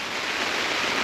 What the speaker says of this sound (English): The rain hasn't stopped, it's been incessant.